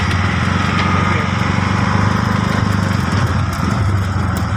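A small motorcycle engine runs steadily nearby with a buzzing, high-pitched drone that holds at a constant level throughout.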